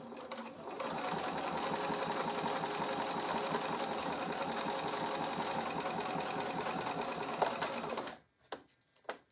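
A sewing machine runs a straight stitch along a seam on a fabric pouch, whirring at a steady, rapid pace for about eight seconds before stopping, followed by a few small clicks and handling noises.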